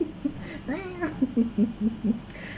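A human voice imitates a cat meowing with a short drawn-out meow, followed by a string of quick, low, yowling bursts, close and fairly loud.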